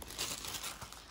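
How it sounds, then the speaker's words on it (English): The protective plastic bag around a diamond art canvas crinkles and rustles continuously, close by and fairly soft. "Our canvas comes in this protective plastic bag to keep everything clean and dry."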